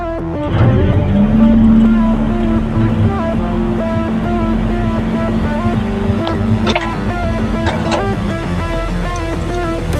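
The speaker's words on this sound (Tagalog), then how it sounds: "Siyempre, nakatras yung truck natin." A truck engine reverses at a rain-soaked, slippery quarry, a steady close diesel drone with a sustained low whine running through most of the stretch and a few sharp clanks near the end.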